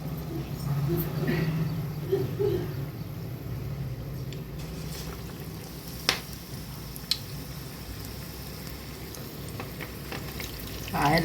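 Green chillies for bajji fry in hot oil, a steady close sizzle and crackle with a few sharp pops, lasting throughout.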